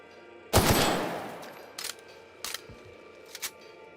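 A plasma gun fires in The Outer Worlds with a sharp broadband burst that decays over about a second, followed by three shorter, quieter discharges at roughly even intervals over a low hum.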